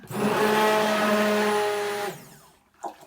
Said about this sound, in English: Bring my stick blender off a little bit.